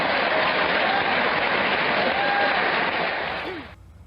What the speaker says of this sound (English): Now they're applauding for her being naked.